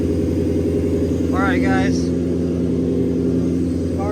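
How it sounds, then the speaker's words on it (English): A Lexus SC400 with its 1UZ-FE V8 idles steadily and close by, fresh from an EGR delete, a smooth continuous engine drone running throughout while someone speaks briefly over it. "car is started."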